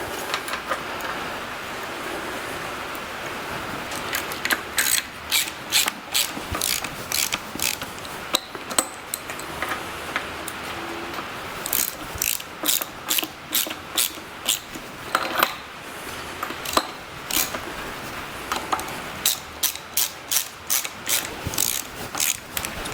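A hand ratchet clicks rapidly in bursts as bolts are drawn down on the bull pinion housing of a Farmall H tractor, with short pauses between strokes, close and clear with no talking.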